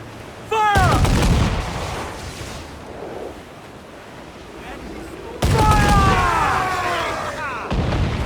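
Ship cannons boom in Assassin's Creed Black Flag, two heavy blasts several seconds apart, each with a broad rumbling roar and long tail, amid sea wash and shouted voices between them.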